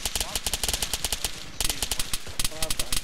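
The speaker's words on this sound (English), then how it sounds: "Someone sounds like they're trying to shoot." Rapid automatic gunfire in the military shooter ArmA 3, a sustained machine-gun burst with dense rattling shots, a brief pause, then more quick volleys, loud and close with a voice speaking over part of it.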